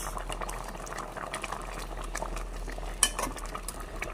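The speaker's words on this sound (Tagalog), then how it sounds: "kumulo na ng kumulo" Chicken paksiw simmers at a rolling boil in a pot, a continuous close bubbling and gurgling with a faint clink of a utensil partway through.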